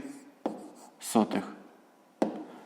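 Handwriting of a maths answer, a few short scratchy pen strokes close up and fairly quiet, with a brief pause between bursts.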